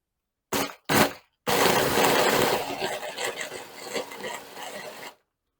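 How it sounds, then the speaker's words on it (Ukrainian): Two short bursts of a blender motor, then a long steady grinding whir that gradually thins as cookies and nuts break down, then stops. "і все перебити блендером"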